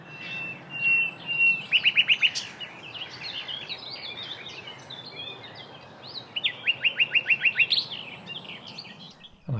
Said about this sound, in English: My firm favourite for this month was the nightingale